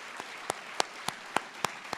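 An audience applauds police officers with sparse, evenly spaced hand claps about three per second. The sharp, distinct claps sound like only a few people clapping.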